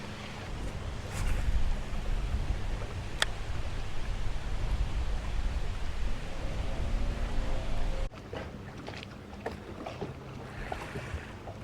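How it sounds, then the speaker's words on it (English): Strong, swirling wind buffets the microphone while bass fishing from a boat in stormy weather, a loud steady roar with water movement that drops noticeably in strength partway through, with no talking. "Boy, the wind is really whipping. It's swirling, so it's blowing me all over different directions here."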